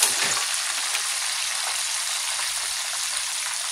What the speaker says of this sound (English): we're going to go ahead and get that fish flipped over so it can cook on both sides